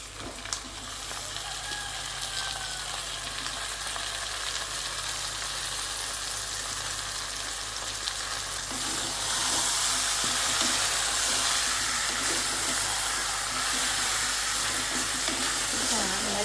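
Chicken frying in a pan with sautéed onions and salt for a spicy salt curry makes a steady, loud, close sizzle that grows brighter and more intense midway through.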